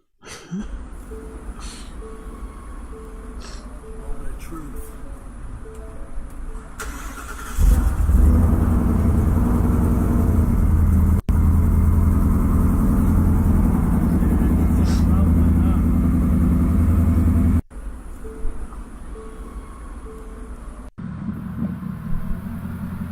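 A truck engine runs at a steady idle, then rises into a loud, sustained rev lasting several seconds before dropping off and picking up again, while people talk nearby.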